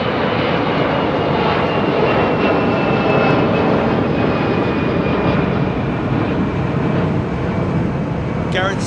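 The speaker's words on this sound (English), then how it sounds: "787-800 on finals." An Azerbaijan Boeing 787-8 Dreamliner on final approach at London Heathrow around sunset, its engines a loud, sustained roar that stays steady throughout.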